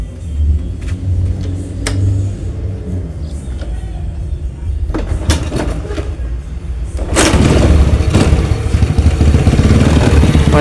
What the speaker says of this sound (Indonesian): langsung coba kita tes hidup ya untuk mesinnya.